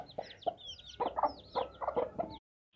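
An Aseel rooster clucks in short, close bursts, about a half-dozen throaty calls in uneven rhythm, then silence.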